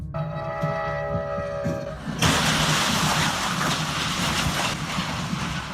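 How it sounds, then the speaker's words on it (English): A train collides with a truck: tonal horn-like and engine tones give way abruptly to a loud, broad crashing roar that keeps rumbling and hissing afterward. "Terrifying video shows a train crashing into a truck."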